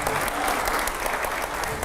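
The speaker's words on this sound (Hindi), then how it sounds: "पहले तो जोरदार तालियां हो जाए रैपिड फायर के लिए" Enthusiastic audience applause rings out at a televised Hindi political debate show, a dense, steady burst of clapping that fills the whole stretch without pause.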